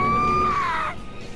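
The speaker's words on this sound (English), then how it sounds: "Oh, that scream though." A single drawn-out scream from a character in the video game Danganronpa 2, loud and high-pitched, holding steady for most of a second before cutting off into quiet background.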